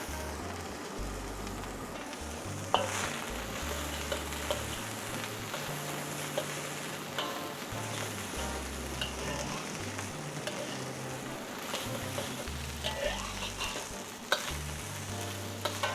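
Vegetables being stir-fried with chicken for salted fish chicken fried rice, a steady hot sizzle under repeated scraping and tossing of a spatula in a wok, close and continuous, with occasional sharper clanks.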